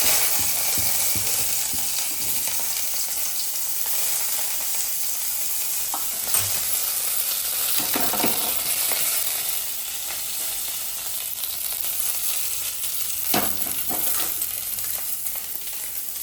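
Green masala fries in coconut oil for a Bangude (mackerel) steam fry, a steady, close sizzle that carries on unbroken, with occasional scraping clicks from stirring.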